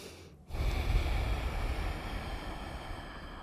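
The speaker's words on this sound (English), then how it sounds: "Take some nice deep breaths here" Faint, slow deep breathing during a relaxing yoga session: one long, airy breath swells in and then trails off softly, with no talking.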